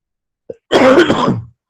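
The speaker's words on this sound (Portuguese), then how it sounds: "já faz um mês aí que eu tô com uma tosse, às vezes para, às vezes não para" One person coughs once, close and loud, a rough burst lasting under a second, preceded by a tiny click or intake of breath, with no talk.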